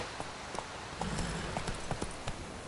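The horse Roach in The Witcher 3 moving at a gallop, hooves striking in a quick, uneven clip-clop, faint and somewhat distant over a soft background hiss.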